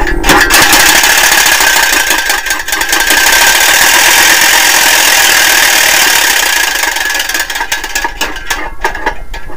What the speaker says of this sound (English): start the motor turning by putting the breaker on the controller